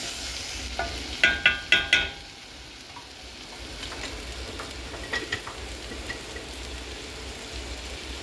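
A utensil clinks sharply against a pan about four times while tomatoes fry for emaus, then a soft, steady sizzle continues with faint stirring scrapes.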